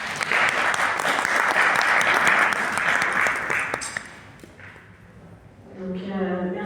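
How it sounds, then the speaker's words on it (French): An audience claps loudly and steadily to welcome a speaker at a French-language event, the applause fading out after about four seconds before a voice begins speaking. "Sous vos applaudissements"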